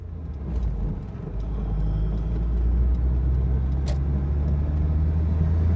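A red 1985 Alfa Romeo climbs onto the I-5 freeway heading southbound, its engine and tyre rumble steady and close, rising slightly as it accelerates, with no talking.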